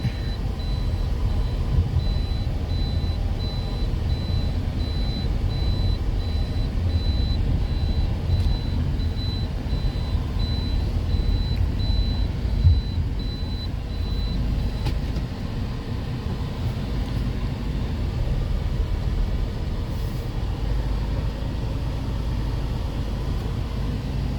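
A Toyota Corolla Altis with a CVT transmission gives a steady, loud low-frequency drone and mechanical whine from the gearbox, continuous throughout with a faint high-pitched tone running through the first part.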